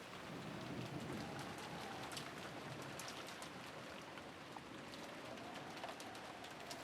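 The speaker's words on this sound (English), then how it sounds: "Oh no, it's rain sounds." Steady rain falls as a sound effect in the Umineko visual novel game, a dense continuous hiss of drops on surfaces with soft low rumbles like distant thunder, fairly quiet and with no voices.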